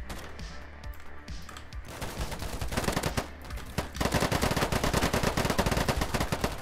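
Rapid automatic gunfire from the player in the shooter Polygon on the Metro map, starting sparse and building into a dense, fast, loud stream of close shots over distant battle noise.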